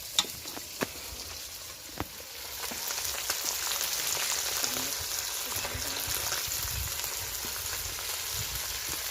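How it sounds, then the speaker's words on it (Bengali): Small fish fry in oil with a steady sizzle, a few sharp pops and crackles early on and a constant hiss. "চুনো মাছগুলোকে ভালো করে ভেজে নাও"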